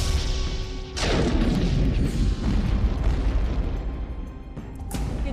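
Missiles being fired and exploding, a heavy rumbling blast surging in about a second in, sustained roaring debris and another sharp burst near the end, loud and without voices.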